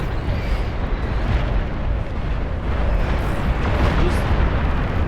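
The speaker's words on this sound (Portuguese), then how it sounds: "Eu tomei uma bomba atômica aqui no meio da unidade antiaérea" A nuclear bomb detonates in the real-time strategy game Beyond All Reason, landing among a cluster of anti-air units, giving a loud, sustained rumbling blast that roars continuously and dense throughout, with no talk over it.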